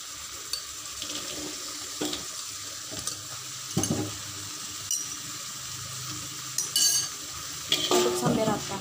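Potato and beef liver sambal being stirred in a pan, with a steady soft sizzle and intermittent scraping and clattering strokes of the utensil, close and moderately loud.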